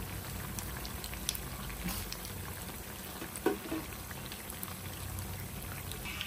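Mirchi bajji frying in hot oil, a soft steady bubbling and crackle that runs the whole time with one brief louder clink in the middle, heard up close with no one talking.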